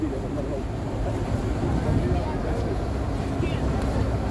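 The engines of a ferryboat to Banjul, The Gambia, give a steady low rumble with wind and water wash. Someone talks over the drone.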